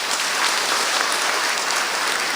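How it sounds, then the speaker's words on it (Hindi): A church congregation applauds during a Christian sermon, loud, even clapping from many people sustained throughout without a break. "ताली बजाए"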